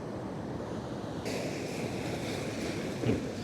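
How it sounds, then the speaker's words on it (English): Ocean waves crash and roll over coquina and sand on a beach, making a continuous roaring wash with wind noise and a slight surge near the end. "as this water crashes in and rolls over this coquina and sand"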